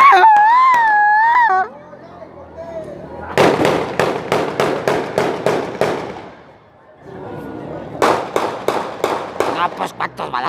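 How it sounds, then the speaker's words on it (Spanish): Rapid volleys of sharp firecracker bangs during Mexican Independence Day celebrations crackle in quick bursts, pausing briefly before another string of pops; a voice calls out at the start. "¡Ah, pues cuántos balazos aquí!"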